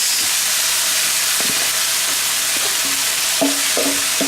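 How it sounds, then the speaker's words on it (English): Rice for chicken fried rice stir-frying in a hot pan, a loud steady hiss and sizzle with intermittent scraping and clanking of a spatula against the metal, close up and without talk. "I'm gonna add in the rice."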